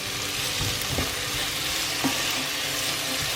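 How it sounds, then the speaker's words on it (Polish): Onion frying and caramelizing in a pan, a steady dense sizzle with occasional soft stirring scrapes, close and continuous with no voices. "Cebulka zacznie nam się tutaj pięknie teraz karmelizować."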